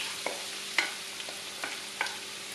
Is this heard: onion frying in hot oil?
yes